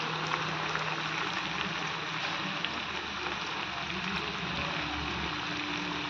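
Rose cookie (achu murukku) batter frying in hot oil on a low flame gives a steady, dense bubbling sizzle that holds evenly throughout, with no voices.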